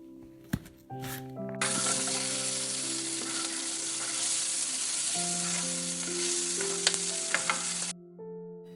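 Pasta frying and being stirred in a pan: a steady, loud sizzling hiss that starts after a second and holds for about six seconds, then cuts off, with soft music tones underneath throughout.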